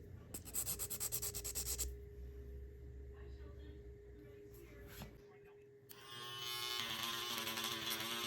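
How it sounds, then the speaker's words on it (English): A nail file rubs back and forth over gel top coat on fingernails in quick rhythmic strokes, close and quiet, with pauses and a low buzzing hum behind it. "I'm going to start by filing down the top coat that I have on all of my nails"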